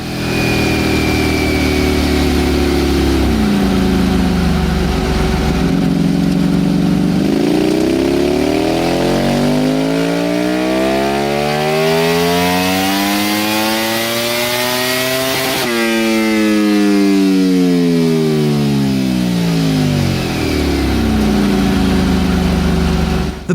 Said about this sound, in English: here's a clip of the V4R on the dyno as well.